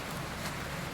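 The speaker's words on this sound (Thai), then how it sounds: "ก็มานั่งเย็นๆกับฝนตกเนาะ" Rain falls steadily as a soft, even hiss of drops, with no other sound standing out.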